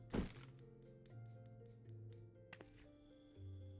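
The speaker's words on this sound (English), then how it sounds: "The sound of so many gil clinking together is strangely satisfying, is it not?" Gil coins clink and jingle inside a money pouch in the Final Fantasy XIV video game, a soft thump followed by scattered faint metallic chinks over a quiet game music bed.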